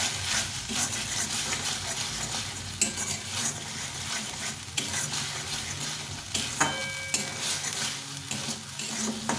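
Coriander spice paste sautéed in hot oil for green rohu fish curry, with steady close sizzling and spoon scraping, plus occasional clinks of metal against the pan throughout.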